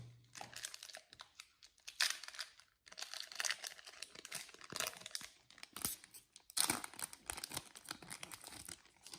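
A Yu-Gi-Oh Fang of Critias card pack torn open up close, with repeated bursts of crinkling foil and ripping separated by short pauses.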